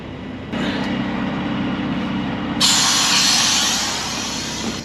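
A trailer axle being lowered while a Ford truck is unloaded in winter in Montreal gives off a steady mechanical hum and hiss that grows louder partway through. It stays up close and carries on with no talk.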